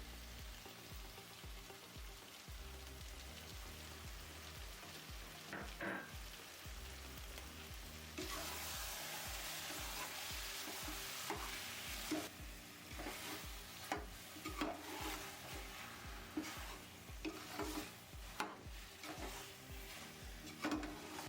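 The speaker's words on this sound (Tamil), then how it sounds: "புதினாவை போட்டு ஒரு நிமிஷம் வதக்குனா போதும். இப்போ 3/4 கப் தயிர் ஆட் பண்ணிக்கோங்க." Mint and yogurt sautéing for a pressure-cooker basmati chicken biryani, with steady frying sizzle under repeated scraping and stirring knocks that grow louder and busier partway through.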